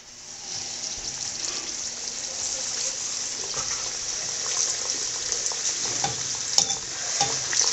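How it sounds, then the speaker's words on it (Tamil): Athirasam dough, a sweet Diwali snack, frying in hot oil: a continuous, close, bright bubbling sizzle that swells slightly over time, with occasional sharp pops and clinks near the end. "இது அப்படியே எண்ணெயில் போட்டு பொரிச்சிக்கலாம்."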